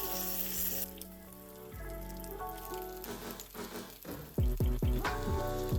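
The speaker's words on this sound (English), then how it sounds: "Slap the full cuts of Spam onto the hot iron and fry them until a nice brown crust forms." Thick slices of Spam fry in lard in a hot cast iron pan, giving a steady crackling sizzle with sharp pops, loud and close, with occasional clanks of utensils.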